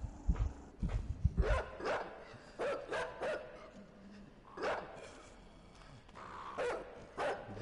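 A dog barks in a string of short, sharp yaps of varying spacing, faint and somewhat distant, amid light background noise with no talk.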